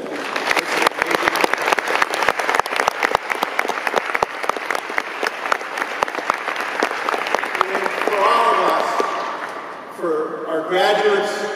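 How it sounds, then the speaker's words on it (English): At a Notre Dame political science commencement ceremony, a large crowd applauds with dense, sustained clapping for several seconds, then fades as cheering and a voice take over near the end. "why don't you give them a round of applause for giving you the opportunity to be here today"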